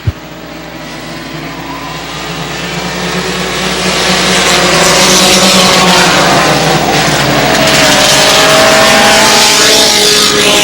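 Race cars roar around an oval track, the engine noise swelling from a quieter start into a loud, sustained drone as the pack closes in and passes. No one speaks.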